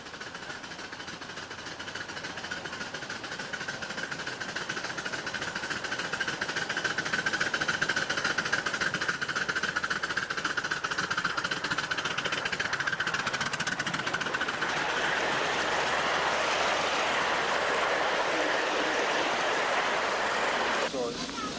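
A St. Croix Railroad locomotive chugs and knocks in a loud, rhythmic mechanical throb that swells into a broader rushing noise partway through, with talk in the background.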